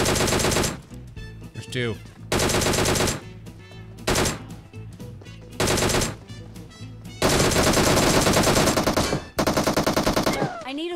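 Automatic weapon fire in the mobile battle royale game PUBG Mobile, loud rapid bursts separated by short pauses and reload clicks, with a player speaking briefly between volleys.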